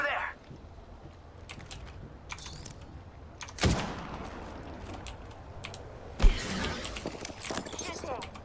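Gunfire in the battle royale game Apex Legends, two loud broadband bursts standing out over steady keyboard typing and a voice talking through the clip.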